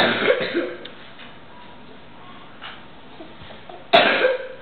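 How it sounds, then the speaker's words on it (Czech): A child coughs a few times, with short harsh bursts near the start and a sharper cough toward the end, close to the listener. "to dobrý, že kašleš"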